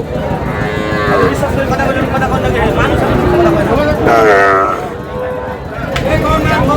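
Sahiwal bull calves at a Tangail cattle market letting out loud, drawn-out moos close by, over constant talk and crowd babble.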